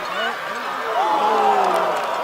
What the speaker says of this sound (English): You heard the crowd react.